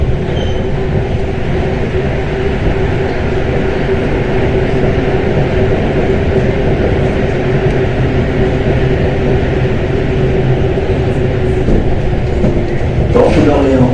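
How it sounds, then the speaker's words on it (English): A Paris Métro line 4 train runs through the older section of the line, giving a steady, loud rumble with a sustained drone and hiss, and a brief squeal of wheels or brakes near the end. "a train now goes into the old part of line 4."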